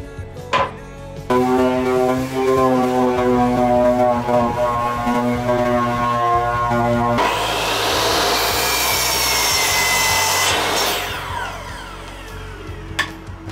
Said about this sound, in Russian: На третий день обрезательных работ к пиле я уже привык